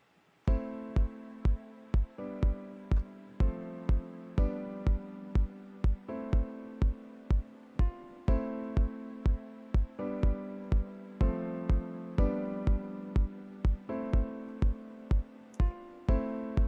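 Repeating keyboard chords played in FL Studio from a computer keyboard, in a steady rhythm, each with a sharp attack that decays, cycling through a short progression without any voices.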